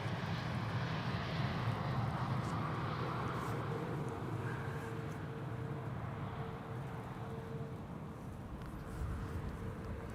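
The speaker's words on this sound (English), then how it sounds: "TUI Flight 393, arriving from Curaçao. 7878 Dreamliner." A TUI Boeing 787 Dreamliner, flight 393 from Willemstad, Curaçao, lands on the Polderbaan runway 18R with a steady, broad engine roar that holds throughout, moderately close and unbroken, with no voices.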